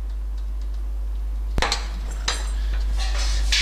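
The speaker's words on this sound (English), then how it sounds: "Flip the fermenter to show you." A conical home-brewing fermenter being flipped over and handled, giving two sharp metallic clanks a moment apart with a fainter rattle after, over a steady low background hum.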